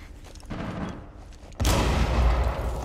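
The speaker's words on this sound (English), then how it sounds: "They threw an impact grenade." An impact grenade detonates in Rainbow Six Siege, a sudden loud blast that cuts in partway through and leaves a sustained rumbling roar over the background game noise.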